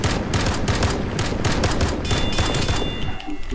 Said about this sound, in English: It will give me an airstrike.